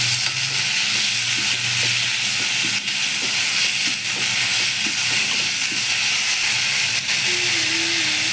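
Chopped tomatoes and spices fry in a pan, with a steady loud sizzle and hiss throughout, under occasional soft scrapes and taps of stirring, up close and continuous.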